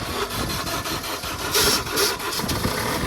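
A car engine cranking and catching after a jump-start with booster cables from another car, sputtering to life and then settling into a fairly quiet, uneven idle with a couple of small revs.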